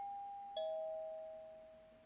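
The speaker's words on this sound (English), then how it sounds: "The doorbell rang." A doorbell chimes in the visual novel game Kimi to Kanojo no LILYVAGANZA: a single clean electronic ding-dong tone that rings out, then fades slowly over a quiet background.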